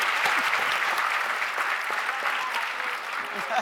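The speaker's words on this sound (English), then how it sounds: "big round of applause." Audience applause for a panel at a PEPFAR anniversary event, a dense, steady wash of clapping from many hands that holds at an even level throughout.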